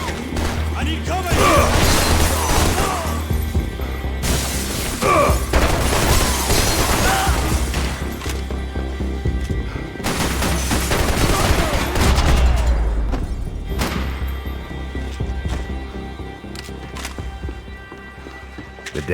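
Heavy gunfire during a firefight in a morgue in the video game Max Payne 3, with loud bursts of shots and impacts layered over game music and brief voice lines.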